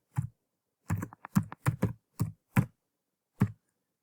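About nine crisp keystrokes on a computer keyboard, some single and some in quick pairs, spaced irregularly with short gaps in a quiet room while entering statistics data.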